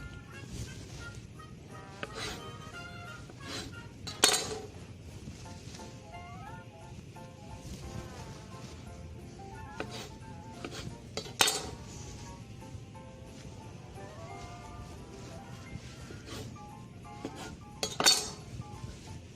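Quiet kitchen clatter as food is loaded into a butter-greased 9x13 casserole dish: sporadic clinks and knocks of dishware and utensils, with a few sharper chinks standing out at irregular intervals.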